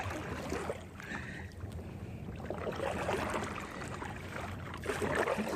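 A kayak paddled across Lake Arlington at sunrise gives soft, rhythmic water swishes and splashes, mixed with rushing wind buffeting a body-mounted camera microphone.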